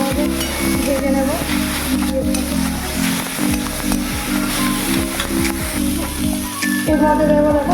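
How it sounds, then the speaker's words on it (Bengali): Crushed cardamom pods fry in hot ghee for carrot halwa, a loud, continuous sizzle with repeated scraping stir strokes. "ভাজাটা একটু ভালোভাবে ভেজে নেব"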